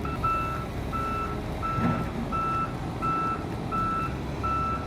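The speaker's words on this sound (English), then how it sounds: "The Volvo EW145B slowly moves, skillfully climbing onto the trailer with near-perfect precision." A Volvo EW145B wheeled excavator moves slowly onto a transport trailer, with an evenly spaced, regular reversing beep repeating over a constant low engine rumble.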